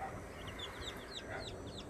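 Chicken clucking and short rooster calls, several brief high chirping notes scattered over a steady noisy background, with no talk.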